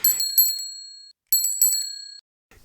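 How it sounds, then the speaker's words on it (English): A bicycle bell rings in two quick bright bursts of rapid dings, each trailing off in a clear metallic ring, close and alone with no talk. "Peppa rings her bell. Ding ding."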